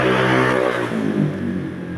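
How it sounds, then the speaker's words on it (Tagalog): Motorcycles revving on a Surigao street, a close, loud engine roar that climbs then eases into a steady droning idle. "medyo maingay ang mga motor dito sa Surigao"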